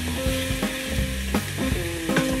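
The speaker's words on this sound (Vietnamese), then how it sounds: "Mình sẽ xào qua lên bằng nồi áp suất" Pork ribs stir-fry on the sauté setting of an Instant Pot pressure cooker, giving a steady sizzle broken by a few sharp scraping stirs.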